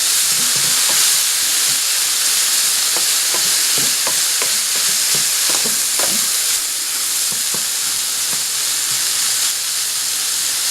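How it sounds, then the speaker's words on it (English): Green onions get stirred into spicy shrimp and vegetables in a hot pan, a loud constant sizzle with scattered clicks and scrapes from stirring, close up and without talk. "Stir that in."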